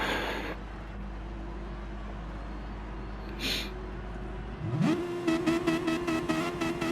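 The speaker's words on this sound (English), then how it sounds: "So the revs are rising" Racing car engines in a Gran Turismo-style Gr3 championship race at Fuji: a low idle hum gives way to a sharp rising rev, then a rapid pulsing engine note as the cars launch, fairly close and loud.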